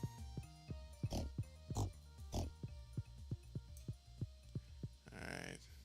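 Pigs on a farm in a video game, a series of short grunting oinks repeating in an irregular rhythm, fairly close, with a brief burst of noise near the end.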